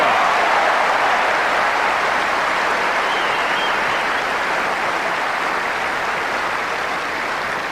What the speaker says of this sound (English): And they're finding it difficult to cheer.